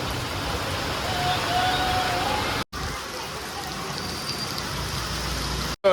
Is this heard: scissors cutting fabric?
no